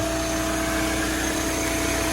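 An Audi car engine idling smoothly and evenly at close range, a steady hum with no change in pitch.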